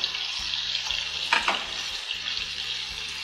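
Chicken pieces fry in a pan with butter, giving a steady, close sizzle that runs throughout over background music.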